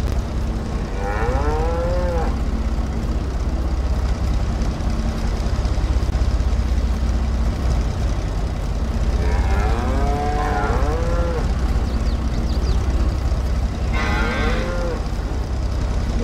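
Cows on a farm moo in three long, drawn-out calls spaced several seconds apart, fairly close, over a steady low rumble of background machinery.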